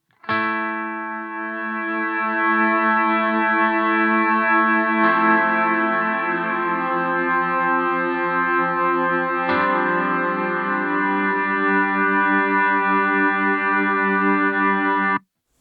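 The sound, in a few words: Chase Bliss Onward pedal slow fade with freeze effect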